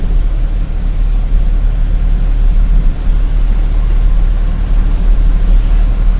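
Lightly loaded truck engine running steadily at low RPM on a Tamil Nadu highway toward Krishnagiri, a loud continuous low rumble with constant road drone and no breaks.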